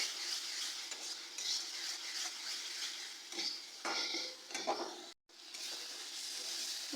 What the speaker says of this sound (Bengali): এবার চিনিটা দিয়ে একটু নাড়াচাড়া করে নেব।